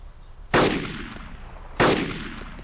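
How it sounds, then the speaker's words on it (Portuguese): Two sharp gunshots ring out in the DayZ Mod for Arma 2, each a loud crack followed by a fading echo, spaced about a second apart. "Mano, eu vi tiro"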